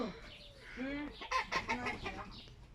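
Several chicken clucks and squawks close by, in quick irregular bursts, with a faint voice briefly in the background.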